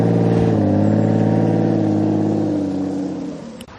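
Aston Martin V12 Vanquish with a 6-litre V12 engine, a loud, close, sustained engine drone held at steady pitch that slowly fades out near the end, capped by a brief click.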